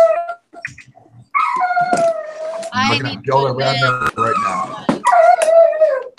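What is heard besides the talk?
dog howling and whimpering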